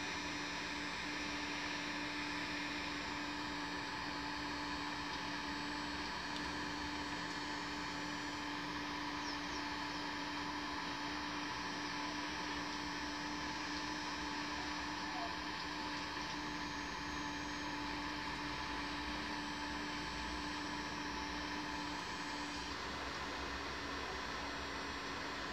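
A GJ-8018 hot air rework gun melts solder on a circuit board, giving a steady, even blowing hiss over a low electrical hum that runs unbroken the whole time, with no talking.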